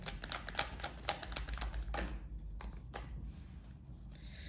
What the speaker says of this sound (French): Je mélange les cartes, ça vient comme ça vient.